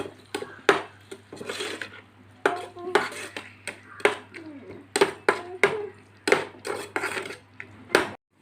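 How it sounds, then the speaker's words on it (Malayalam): A spoon scrapes and clatters against a pan while a potato dish is stirred and sautéed, sharp close knocks repeating in an uneven rhythm over a low steady hum, with a faint sizzle beneath. "വഴറ്റി നല്ലപോലെ ഒന്ന് വഴറ്റിയെടുക്കാം"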